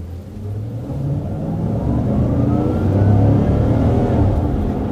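A 2014 Chevrolet Silverado V8 pulls out onto a road, its engine rumbling loudly and building steadily as the truck accelerates, heard close with no talk.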